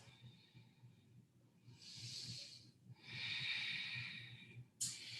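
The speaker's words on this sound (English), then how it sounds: "One more big breath." A deep breath during a yoga session: a slow hissing inhale followed by a longer, fuller exhale and a brief sharp sniff at the end, close and soft with no talking.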